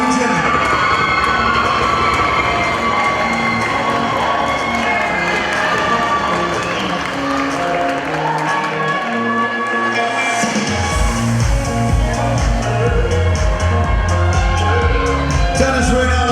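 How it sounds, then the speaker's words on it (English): Pageant audience cheering and applauding loudly and continuously, a dense crowd roar with shouts and whoops that swells further near the end. "let's give a big round of applause, ladies and gentlemen"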